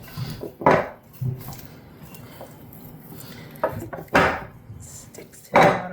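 Sourdough country loaf dough squished and mixed by hand in a bowl that it sticks to, heard as several soft wet slaps and scrapes with a few louder knocks against the bowl, close and without talk.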